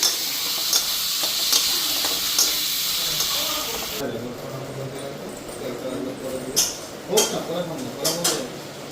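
Banana flower frying in a pan with garam masala in oil left from frying fish, a loud crackling sizzle with stirring scrapes, settling into softer bubbling while a voice talks nearby.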